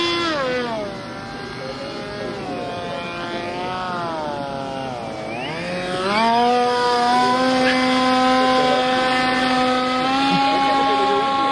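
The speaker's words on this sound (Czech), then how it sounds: "dnes můžete vidět tento model poháněný jednou vrtulí" A single-propeller model of a twin-turbine aircraft flies at a modelling club day, its engine droning with a rising and falling pitch as it passes, then holding a steady, louder whine.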